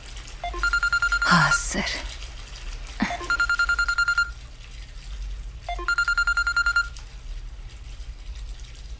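A telephone rings in three repeated electronic trilling bursts with short gaps between them, close and clear, with a brief spoken word and some handling noise.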